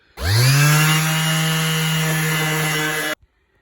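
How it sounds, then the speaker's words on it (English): A power sander spins up and runs steadily against the bulkhead of a Land Rover Series 2, a loud, close, even whine lasting about three seconds before cutting off abruptly. "So I'm just going to give this bulkhead a quick sand and paint underneath where the hinges go."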